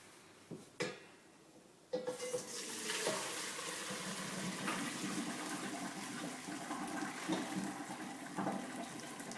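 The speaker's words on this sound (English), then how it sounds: "slowly bring it over to the sink and pour it into the colander" Hot pasta water is poured from a pot into a colander in a sink, starting with a couple of metallic clanks before a sustained rushing gush of water splashing steadily for several seconds.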